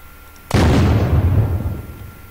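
A single loud rifle shot from the video game Unturned, a sharp close crack followed by a long rumbling echo that slowly fades.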